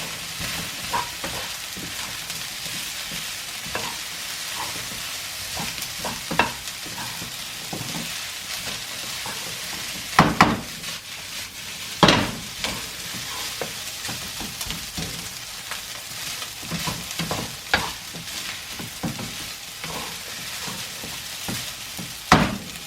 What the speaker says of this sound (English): Then put in another half of the egg, which is the remaining of